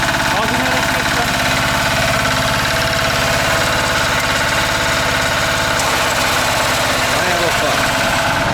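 Motoblok walk-behind tractor engine running loud and steady at a rough, knocking idle, its vibrating chug continuous throughout with a slight change in tone near the end; no speech is heard over it.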